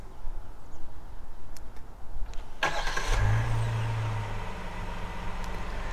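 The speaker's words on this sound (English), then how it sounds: "Or I can start the car, just have to hit lock," A 2022 Kia Carnival minivan starts by remote from the key fob. A brief crank is followed by a low, steady idle that settles and holds under quiet surroundings, with no talking.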